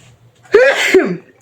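One loud, close sneeze: a sharp inhaled rise followed by a forceful burst, alone in a quiet room.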